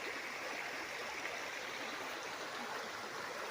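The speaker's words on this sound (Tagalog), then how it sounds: "Tapos dito sa baba ng yung property, nandito yung ilog." A river flowing below a farm property in Nagcarlan, Laguna, heard as an even, unbroken rushing stream, fairly faint and steady with no voices over it.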